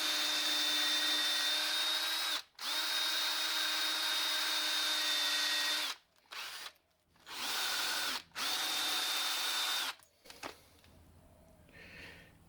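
A Toyota engine valve with carbon buildup spins against clean Scotch-Brite pads in a high, steady whirring that runs in several stretches. Short stops break it up before it fades into quieter handling noises, with no talk.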